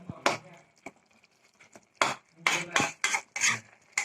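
Palak spinach stirred in a pan with a utensil: sharp scraping and clattering strokes, a few sparse ones then a quicker run of loud close scrapes, with no talk.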